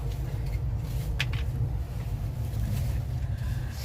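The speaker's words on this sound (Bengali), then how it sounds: "সবে ট্রেন ছাড়লো বিশাখাপত্তনম থেকে" Inside a passenger train carriage just pulling out of Visakhapatnam, a steady low rumble and rolling drone fill the space, with faint rattles on top.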